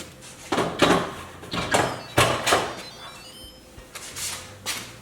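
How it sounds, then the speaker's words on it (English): An Instant Pot pressure cooker lid being set back on, a series of close, sharp clunks and scraping knocks spaced irregularly across several seconds, with no speech. "I'll put the lid back on."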